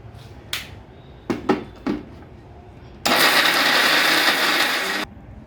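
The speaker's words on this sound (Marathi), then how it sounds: "आता आपण हे मिक्सरमधून काढून घेऊया" A mixer grinder grinds a jaggery mixture for gulpoli: a few short, sharp bursts early on, then a loud, steady whirring run of about two seconds that stops abruptly, close by.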